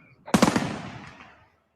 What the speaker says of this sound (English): That's not an AK. That's a heavy machine gun.